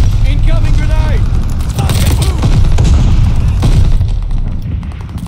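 Battle sounds from Call of Duty Vanguard's Patrol mode, loud continuous booms and rumbling gunfire with a heavy low-end blast, under in-game voice chatter.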